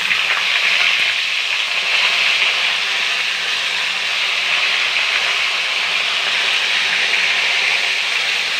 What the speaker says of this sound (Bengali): এবার আমি এর মধ্যে মশলাগুলো দিয়ে দেবো এক এক করে। প্রথমে পেঁয়াজ দিলাম